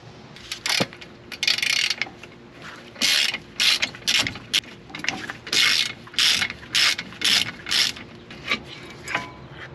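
A socket ratchet clicks in repeated bursts of loud, rapid pawl ratcheting while loosening a stubborn ball joint bolt on a Volkswagen control arm, with short pauses between strokes and no talk.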